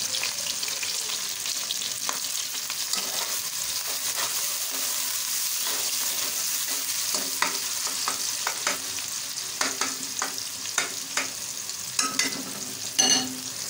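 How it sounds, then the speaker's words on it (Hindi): Onions frying in oil in a kadai give a steady close sizzle, with occasional scrapes and stirring clicks rising over the hiss toward the end. "अब मैं इसके अंदर जो है प्याज ऐड कर लूँगी। इसको हम लाइट गोल्डन कर लेंगे।"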